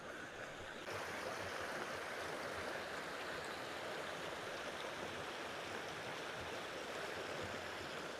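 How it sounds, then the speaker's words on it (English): A small stream babbles continuously, a soft, steady wash of trickling water, quiet and uninterrupted with no voices. "I don't know if you can hear that lovely little stream"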